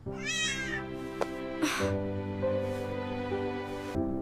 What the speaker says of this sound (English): It is just a cat.